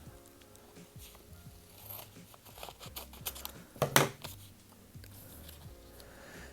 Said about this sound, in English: I'll just cut that to size.